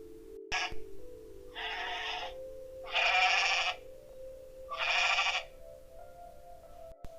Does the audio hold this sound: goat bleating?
yes